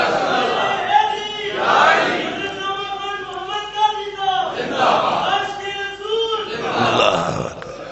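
A crowd at a religious gathering with an Islamic scholar chants slogans in loud rhythmic unison, waves of massed voices rising and falling several times, with a lead voice calling between the responses.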